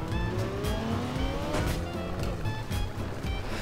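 Car engines from a Garry's Mod sandbox racing game, with a player's Volga among the cars, drone steadily throughout, with rising revs and tire squeal over a busy, loud mix.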